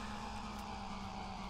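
Ship engine mounted on a car in The Long Drive video game, a steady deep droning hum with a constant low tone, loud and unbroken throughout, no talk over it.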